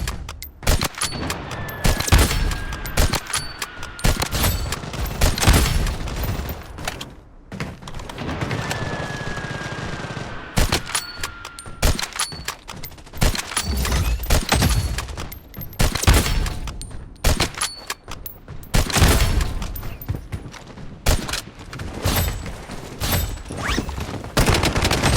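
Gunfire from an M7 rifle in the shooter game Blood Strike, dense rapid bursts of sharp close shots cracking repeatedly across the stretch, broken by short pauses and distant pops.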